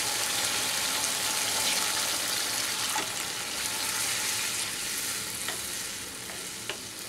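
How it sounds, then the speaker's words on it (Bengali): Steady, loud sizzle of mustard masala frying in oil for a Pabda fish curry, with a few faint scrapes and clinks as water goes in; no clear pour splash stands out. "এবার আমি দিয়ে দেব জল"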